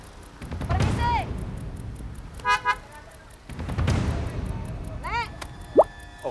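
Several short car horn honks sound, a couple of quick toots then another, amid a noisy, traffic-jammed street with vehicle rumble.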